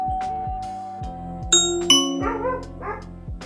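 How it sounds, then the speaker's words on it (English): Ring doorbell press chiming through an Echo Show smart display, a bright two-note ding-dong ringing out clearly over a rhythmic background, with dog-like barks following. "So mine's on default, which sounds like that"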